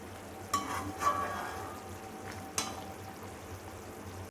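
Tamarind paste for pulikaichal bubbling and frying in oil as it thickens, a soft steady sizzle broken by a few brief stirring scrapes, close and fairly quiet.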